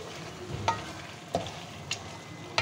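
Peeled tomatoes land in a pan of frying masala for lauki gosht, giving a steady low sizzle broken by a few sharp stirring clinks, close up and with no voices.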